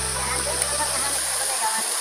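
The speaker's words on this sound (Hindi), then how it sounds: "यहाँ पे गाइस परेमादह का झरना है" The Parewadah waterfall at a scenic spot in Balrampur, Chhattisgarh, gives a steady, full rushing roar of falling water, close and continuous, with a voice speaking over it.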